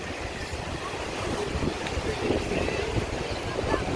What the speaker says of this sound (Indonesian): air ini namanya Pantai Sijes Barcelona Spanyol ya. Lihat, enak ya, pantainya